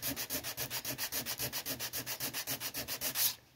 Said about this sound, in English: I'll probably do a light sand over the whole thing before I stain it.